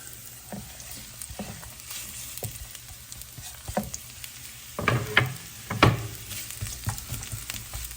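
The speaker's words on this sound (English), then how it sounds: "now it's hot, so I'm adding the onions and the peppers" Onions and peppers frying in a hot nonstick pan: a soft continuous sizzle with scattered stirring clatters and a few louder scraping bursts partway through.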